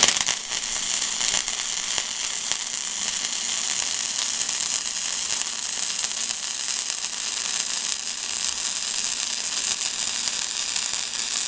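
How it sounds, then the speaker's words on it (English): A Hobart Handler 140 flux core welder laying a bead, a continuous loud crackling hiss and sizzle with dense spitting pops, steady and close for the whole stretch. "So let's try doing some welding."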